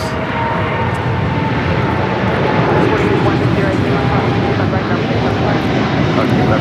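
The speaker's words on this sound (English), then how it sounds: "cargo Airlines 222 taking off to Shanghai on the 777 freighter" A Boeing 777 freighter taking off at LAX, a loud, constant engine roar filling the whole stretch, with people talking over it.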